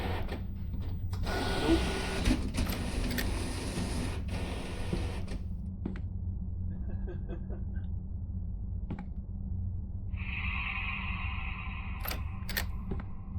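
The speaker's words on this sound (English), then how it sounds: "Want to see like if it's gonna print something useful." A printer in the horror video game A Place Forbidden whirs and clicks faintly over a steady low hum, with a short mechanical chatter near the end; a voice speaks a single word.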